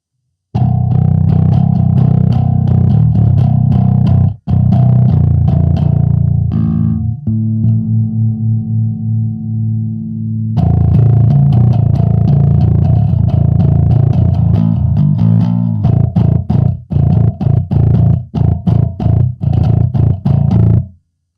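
Bass guitar played through a Phil Jones BP-800 amp and C4 cabinets with a distorted tone, low B string included: loud, driving riffs with rapid picked notes, a sustained ringing chord midway, then more chugging runs.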